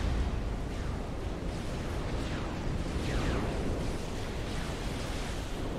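A T3 factory explodes in Supreme Commander on the Setons map, with torpedoes striking it, heard as a continuous dense roar of overlapping booms and rumbling blasts that holds steady and loud throughout.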